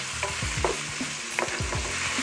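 Green onion and chopped vegetables with salt and black pepper sizzle loudly in a frying pan, with rhythmic scraping strokes of stirring repeating every half second or so, close up and without talk.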